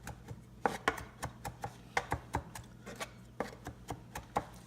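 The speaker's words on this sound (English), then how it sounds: "Just kind of loose chop it like that" Vegetables being loosely chopped with a knife on a board: a series of crisp, close knocks in an uneven rhythm, with no voice over them.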